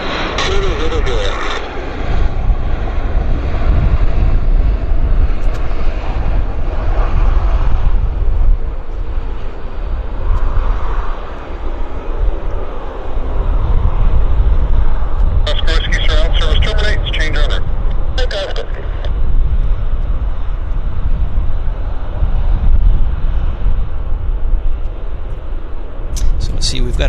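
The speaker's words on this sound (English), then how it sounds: "We've got another lander from Calgary, Westjet Flight 119. He is on short final" WestJet Flight 119 from Calgary on short final makes a loud, continuous engine roar, rising and dipping slightly, with intermittent radio voices crackling over it.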